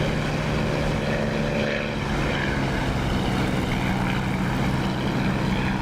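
A propeller aircraft engine in the DCS flight simulator drones steadily at full volume, a dense, constant roar with a faint shift in pitch partway through, with no voices.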